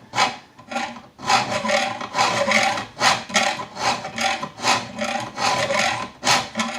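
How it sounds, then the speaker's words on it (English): Hand file rasping back and forth across a rebar knife blank, loud close rhythmic strokes repeating steadily with brief pauses between them. "So I just file up."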